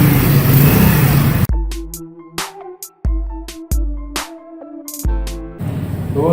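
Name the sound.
new United motorcycle engine revving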